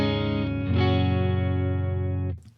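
Electric guitar through a UAFX Dream 65 amp pedal, a Deluxe Reverb-style amp emulation, rings out as a sustained, full-bodied chord with clear, lightly driven harmonics. It holds steady for about two seconds, then cuts off abruptly, with no voices.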